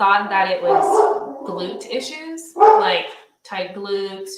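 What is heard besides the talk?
dog barking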